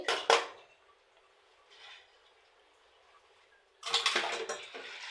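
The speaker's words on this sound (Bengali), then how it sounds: "নাস্তা খাওয়ার পর যে প্লেট বাটি কাপ কাপগুলো আ ধোয়া হয়েছিল ওগুলো ধুয়ে নিচ্ছি" Plates, bowls and cups being washed at a sink, with sharp clinks and clatters of crockery at the start and a busier run of knocks near the end, separated by quiet running-water hiss.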